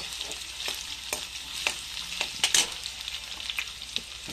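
Garlic-ginger paste frying in hot oil in a village kitchen, a steady close sizzle punctuated by several sharp stirring scrapes and spatters, with no voices.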